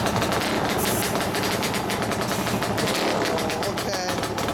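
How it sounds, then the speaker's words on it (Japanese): A Yamaha Lanza motorcycle engine runs loud and close with a rapid, crackling pulse that holds steady throughout, with voices faintly beneath it. "あのランツァーのエンジンを聞かせて。"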